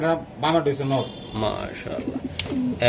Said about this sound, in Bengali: এই তো এই তো দেখেন কবুতর